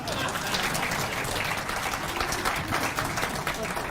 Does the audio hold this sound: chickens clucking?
no